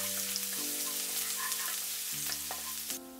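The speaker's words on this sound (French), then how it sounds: "Quand l'huile est chaude, je mets la moitié de l'ail haché." Half of the minced garlic dropped into hot oil for a beef and Chinese cabbage stir-fry, giving a steady close sizzle with light stirring, all under sustained background music.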